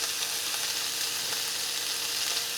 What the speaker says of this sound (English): Oh, what a glorious sizzle.